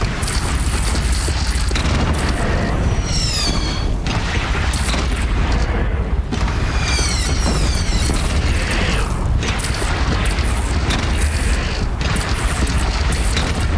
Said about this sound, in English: But this time we will use the cannons that are set up.